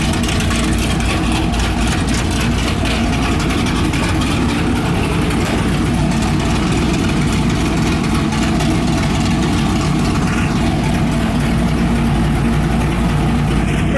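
A Chevy C10 square-body truck, a quick drag build, idles with its electric exhaust cutouts opened, giving a loud, steady, low rumble that holds close and even for the whole stretch.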